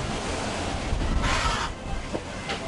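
Strong 30-knot wind and waves on a sailboat with reefed main and genoa, a constant rushing roar with surging wash and gusty swells buffeting the microphone, no voices.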